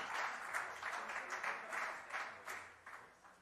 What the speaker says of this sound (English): You can clap. It's all right.